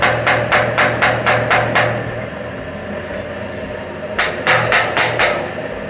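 A ship's main engine piston ring is struck with a tool during a scavenge inspection, giving two runs of sharp, evenly spaced metallic taps, seven then five, over a steady engine-room hum.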